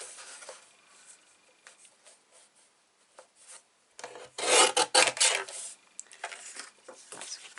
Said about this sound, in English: I'm going to round the corners off.